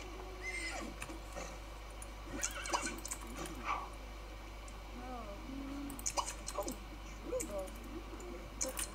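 A horse whinnies a few times in The Sims 3 over steady low background noise, with occasional hoof clops and soft rustling mixed in.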